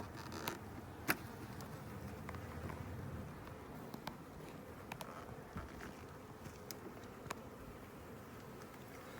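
Honey bees buzzing inside a beehive during a February hive check, a steady close hum with scattered sharper passes of individual bees and no voices.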